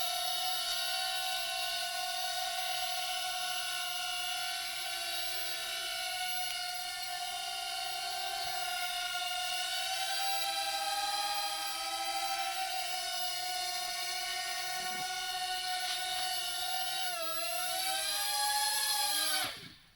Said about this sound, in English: we can see the drone is making a circular trajectory